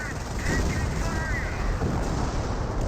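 A Calliope rocket artillery barrage slams into a German Panther tank in Company of Heroes. Dense, continuous rumbling blasts fill the scene with a steady roar of battle and no distinct separate impacts.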